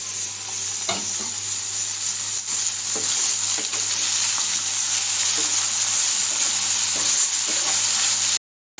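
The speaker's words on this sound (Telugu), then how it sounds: "సో బాగా ఫ్రై చేసుకోవాలి వాటిని." Kanchara kayalu fry in hot oil with a loud, continuous sizzle and a bright hiss throughout, a few faint knocks showing, and a short silent gap right near the end.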